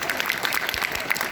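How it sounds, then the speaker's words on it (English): Audience applause fills a comicon panel room in Wales, a dense steady wash of many hands clapping at fairly close range, with a few voices faintly mixed in. "Big round of applause."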